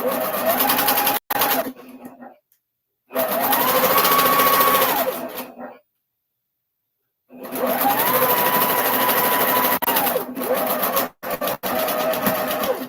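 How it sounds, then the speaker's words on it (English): A domestic sewing machine stitching pieces for a 3-yard quilt runs in loud, steady whirring bursts of a few seconds each, broken by short pauses and silent gaps. "I'm doing brainless sewing right now"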